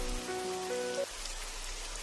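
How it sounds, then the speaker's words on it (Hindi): Heavy rain falls steadily as a dense, continuous hiss, with a brief tonal musical note over the first half and no talking. "भैया, ये बारिश नहीं रुकने वाली।"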